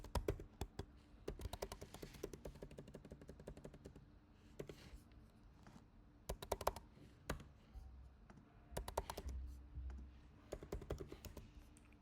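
Test card details are typed on a computer keyboard in quick, faint bursts of clicking keystrokes with short pauses between runs, no voices.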